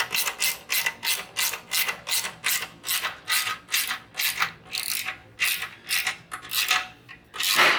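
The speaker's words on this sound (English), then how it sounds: "So now we tighten the exhaust clamp which connects the slip-on muffler with the header pipe." A 10 mm exhaust clamp bolt on a Harley-Davidson Street 500/750, joining a Danmoto slip-on muffler to the header pipe, is tightened with a ratchet: about a dozen and a half rapid, regular clicking strokes, close and fairly loud, with no talking.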